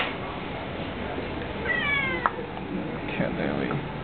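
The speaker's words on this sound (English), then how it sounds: "Another white cat." A white cat gives a short, faint meow amid quiet background noise, followed by a softer second mew a moment later.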